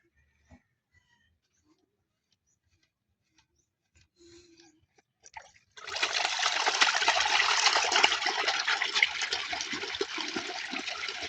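Water gushes from a clean-out pipe as a concrete tilapia pond drains, a loud, steady rushing flow that starts abruptly after a few seconds of near silence with small clanks and continues without a break.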